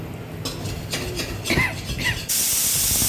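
A pitha rice cake fries in a pan with a hissing, spitting sizzle that swells in bursts and then turns into a steady loud hiss near the end; no voices.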